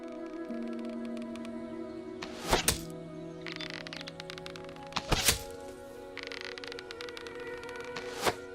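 Three sharp thunks of shots striking a target ring out at steady intervals in the video game Fable Anniversary, each crisp and close over a constant low hum.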